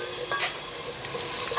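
Food stir-fried in a pan, briskly sizzling and crackling, with a few soft scraping stirs and light clinks of a utensil against the pan over a steady fry.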